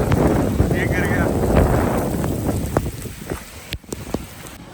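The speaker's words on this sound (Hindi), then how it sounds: "बारिश हो गई।" Rain falls steadily outdoors in the Himalayas, a dense hiss of drops with wind buffeting the microphone, while people talk over it and a few sharper taps and knocks break through.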